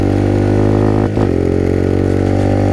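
Off-road vehicle on new knobby tires, its engine droning loud and close with a steady low hum and a brief dropout midway, running continuously without talk.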